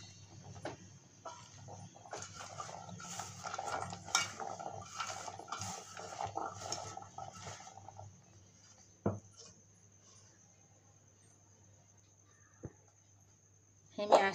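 A spoon mixing chickpeas with garlic and spice masala in a bowl, soft repeated scraping and clinks for several seconds, close and quiet, then a few isolated knocks after it stops.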